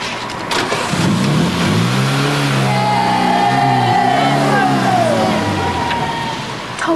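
A car engine cranks and catches, then revs up as the car pulls away, the rising and falling drone loud and close before fading as it drives off.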